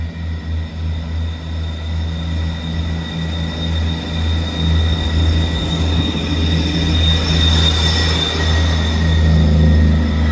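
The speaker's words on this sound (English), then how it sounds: "arriving in now is the 1527 ScotRail service from Glasgow Queen Street to Edinburgh Waverley" A ScotRail class 385 train pulls into Haymarket station, a loud sustained rumble of wheels and motors with a steady whine and high squealing tones building as it comes in close, no voices.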